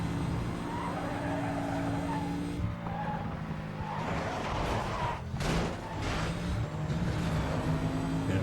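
Racing engine from Need for Speed: Most Wanted (2005, PS2) drones steadily up close, with sustained tire skids and squeals cutting across it and a brief whoosh of a passing car midway.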